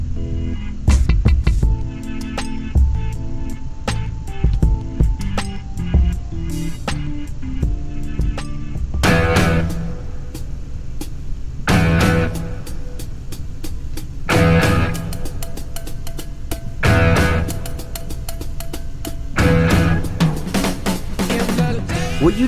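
Intro of a rock song with its drummer, loud full-band rock with punchy drums, guitar and bass, heavy accented hits recurring in a driving rhythm throughout.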